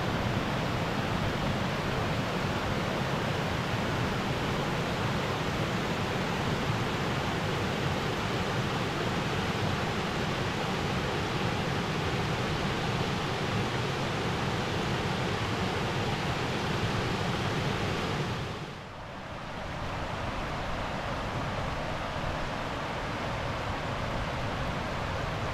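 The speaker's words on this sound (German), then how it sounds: "Und dann sind wir auch schon angekommen an dem Wasserfall." A waterfall at the end of a hike near Gronau (Leine) roars as a constant broadband rush of falling water, loud and unbroken, with a brief dip near the end and no talking.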